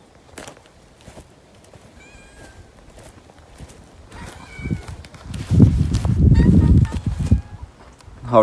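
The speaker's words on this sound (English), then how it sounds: "horrible kitten" A kitten meows a few times in an outdoor farmyard setting at a stone barn under renovation, with short high calls early on and louder low rustling and movement building toward the end.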